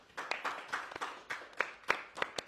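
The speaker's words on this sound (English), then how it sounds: "A big applause for the guests." A small audience at a panel discussion on immigration and LGBT people in Europe claps for the guests, with sparse, rhythmic claps that sound quiet and somewhat distant.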